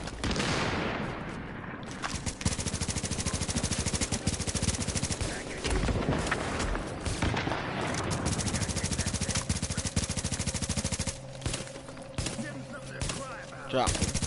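Rapid bursts of automatic gunfire from The Division shooter game rattle almost nonstop, loud and dense, easing into quieter gaps near the end, with a voice speaking briefly over the shots.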